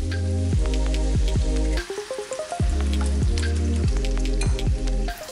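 Bacon frying in a pan, a loud close sizzle with a dense crackle that runs throughout, broken briefly around the middle, while a rhythmic tapping pulses steadily beneath it.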